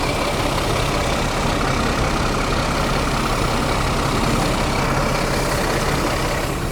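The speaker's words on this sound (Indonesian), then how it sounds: "Nih, dengerin deh suara mesinnya." The engine of an ALS intercity coach on the Medan-Palembang route idles inside the cabin, a dense, steady broadband rumble that holds constant and fills the whole stretch without any voices.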